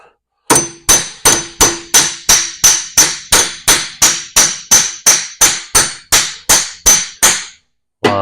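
Hammer blows on a drive shaft U-joint being installed: about seventeen sharp, ringing metallic strikes at a steady, even pace, loud and close, each decaying quickly before the next.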